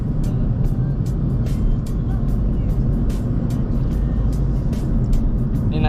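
A Mercedes-Benz A250 Sport AMG drives at moderate pace through busy city traffic, with a steady low engine and road rumble running throughout and a few brief passing hisses. Someone talks over the noise.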